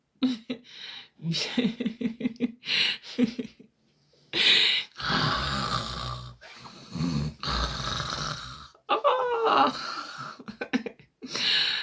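A woman imitates loud snoring with her voice, a series of rasping, throaty snorts and groans in bursts, close and prominent, mixed with laughing exclamations.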